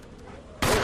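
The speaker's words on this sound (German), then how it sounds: "Es tut mir ja leid, Hunde abzuknallen." A heavy burst of gunfire in a Resident Evil game aimed at attacking dogs: a short quiet lead-in, then an abrupt loud blast that rings on with rumbling decay.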